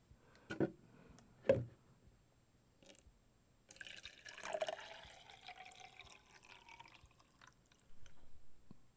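Water is poured into the reservoir of a Bunn home coffee maker, a steady splashing fill of several seconds that follows a couple of brief knocks, with no talking.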